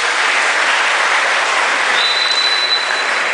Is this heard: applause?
yes